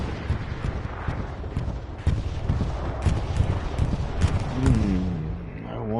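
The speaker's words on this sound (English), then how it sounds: "Looks like an Axis bombing run north." Axis bombing-run explosions in the World War II shooter Hell Let Loose, heard as a continuous rumbling barrage of booms and blasts with scattered gunfire over a loud battlefield din, while a voice speaks briefly near the end.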